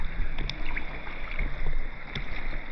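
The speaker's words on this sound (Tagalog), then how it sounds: "Medyo malakas ang alon." Strong sea waves slosh and slap around a small boat off Malta's Munxar coast, a continuous churning wash of water with wind noise over it and occasional splashes.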